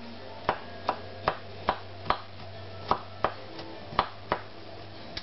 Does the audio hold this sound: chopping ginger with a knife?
yes